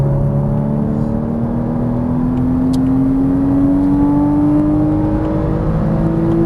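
Porsche Cayman S engine accelerating on a race track, a loud steady drone whose pitch climbs smoothly as revs build, heard from inside the car with no talking.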